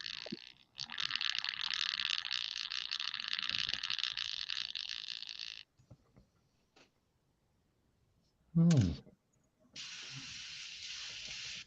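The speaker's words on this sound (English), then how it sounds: "Airbrush disagrees." Airbrush spraying in bursts: a long steady hiss lasting several seconds, a pause with small clicks and a brief low thump, then another sustained hiss, fairly quiet overall.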